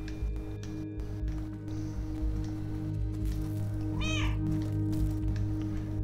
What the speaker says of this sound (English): Can you use a meow to, like, tell you where to go?